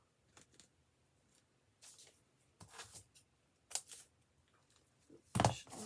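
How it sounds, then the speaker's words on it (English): Scissors snipping in scattered bursts, close and fairly quiet, with short crisp cuts separated by pauses and a louder rustle near the end. "I should not be using those scissors for that."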